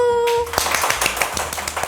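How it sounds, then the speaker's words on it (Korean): Hands clapping in a kitchen cooking setting, a quick run of about ten close, sharp claps after a brief tone, with a voice at the start. "박수!"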